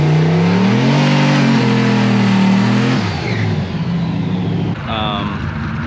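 A turbocharged LS V8 truck makes a test pass on a cold day at Wichita Falls. Its engine roars loud and close, pitch climbing hard for about three seconds before dropping away and fading into a lower rumble.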